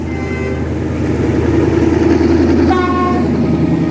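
Two passenger trains, numbers 201 and 71, pulling out of Ayutthaya station in Thailand together: a steady heavy rail rumble throughout, with a loud train horn blast sounding clearly near the end.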